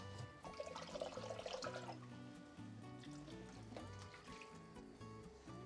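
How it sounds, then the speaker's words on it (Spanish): Water pours into a blender jar still holding ground chili mixture in a home kitchen, a faint trickling and dripping stream with uneven splashes over a few seconds. "Voy a poner un poquito de agua aquí al vaso de la licuadora para aprovechar"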